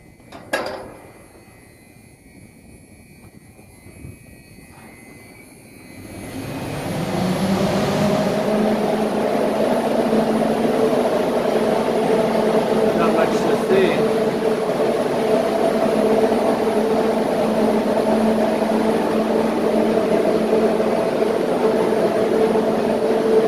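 Inside a wind turbine tower in Nome, Alaska, the generator hums steadily, producing around 40 kW. Its low drone with tonal whine swells up after a few quiet seconds and then holds loud and constant.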